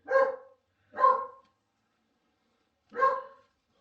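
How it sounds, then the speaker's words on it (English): A dog barks three times nearby, two quick barks then a pause before a third, each sharp and clear against silence. "Oh, sorry, dog barking."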